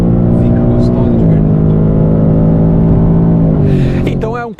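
A 2025 Ford Mustang Dark Horse V8 drones loudly and steadily nearby, the engine note holding almost level before dropping away at the end, with a voice talking over it.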